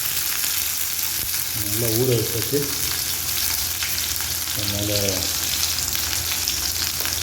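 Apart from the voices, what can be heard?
fish frying in oil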